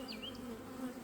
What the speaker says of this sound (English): Another frame, bees started to exit.